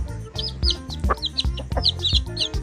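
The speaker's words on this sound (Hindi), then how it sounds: "ये देखो बच्चों, हैन को हिंदी में मुर्गी कहते हैं।" A hen clucks close by in quick, choppy bursts with sharp staccato calls, loud and lively across the whole stretch with no talk.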